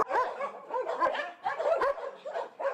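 Several dogs bark repeatedly in the intervention kennels of an animal shelter, a dense and rhythmic chorus of close, loud barks and yips with some whimpering.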